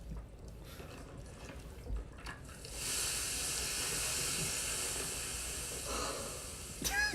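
Steam hisses in a steady, broad rush that swells in after a quieter stretch and holds, with soft breathy texture and a faint squeak near the end, no voices present.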